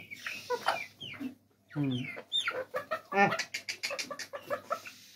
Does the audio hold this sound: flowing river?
no